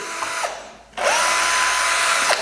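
A power drill runs on a Montolit X-Works tiling work table, whirring steadily in two bursts separated by a brief pause, close and clear.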